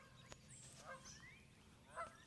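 A female goose honks outdoors in the morning, a few scattered nasal calls with a louder honk near the end, set against faint rural background noise, fairly distant and alone without talk.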